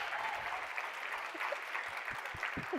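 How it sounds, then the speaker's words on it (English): Audience applause at a talk on technology in schools, steady dense clapping that fills the room throughout, fairly even in level with no voices over it. "Applause."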